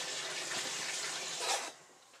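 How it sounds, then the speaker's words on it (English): Cold tap water pours into a container to soak a pheasant skin, a close, steady gushing rush that swells briefly and then tapers off near the end. "we're going to fill this with cold water"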